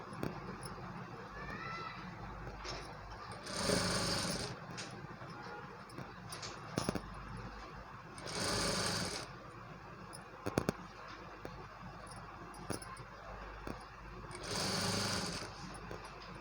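A sewing machine stitches cloth for a newborn baby's cap. Three separate bursts of whirring stitching rise over a low room background, with quieter handling sounds between them.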